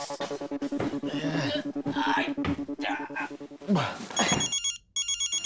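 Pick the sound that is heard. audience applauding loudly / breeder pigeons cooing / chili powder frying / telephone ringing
telephone ringing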